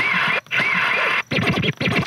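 DJ scratch effect played through a JBL PartyBox 310 Bluetooth party speaker, a loud rapid run of rubbery back-and-forth scratch sweeps in short bursts separated by brief gaps.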